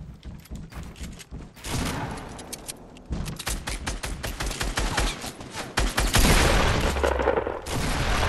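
Fortnite Season 5 firefight with rapid, dense automatic gunfire in a rattling stream, with louder bursts and booms building toward the end. No voices.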